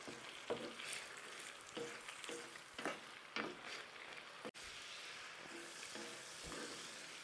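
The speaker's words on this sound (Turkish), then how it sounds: "Tavuklar kavrulurken" Chicken pieces sauté in hot oil in a pot for chicken pilaf, with a steady crackling sizzle, punctuated by occasional scrapes and stirring taps, close and continuous.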